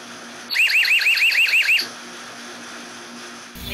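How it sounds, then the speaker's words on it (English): An outdoor EZVIZ C3X security camera sounds its alarm, a loud warbling electronic siren pulsing rapidly for about a second and a half before cutting off, followed by quiet background hum. "So I wanted to show you what it looks like when the alarm is tripped."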